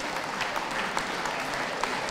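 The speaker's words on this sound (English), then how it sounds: "Could we give them a round of applause," An audience at a championship dog show, working group ring, claps in a steady, moderately distant round of applause that holds evenly throughout with no voices standing out.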